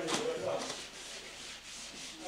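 A corner is being marked out on a plasterboard wall during solid wall insulation work, giving faint, scratchy rubbing strokes in a short irregular series, close and quiet, with no speech.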